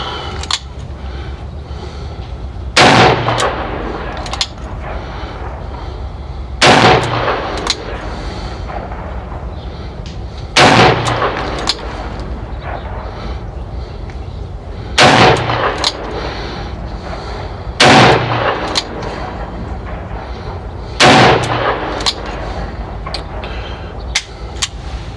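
Single-action shots from an EAA Windicator .357 Magnum revolver, six loud sharp reports spaced about four seconds apart, each with a short echoing tail over steady outdoor background noise.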